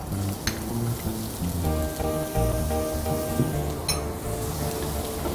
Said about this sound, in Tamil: அது கொஞ்சம் பொரிஞ்சதுக்கப்புறம் வெங்காயம் போட்டுக்கோங்க.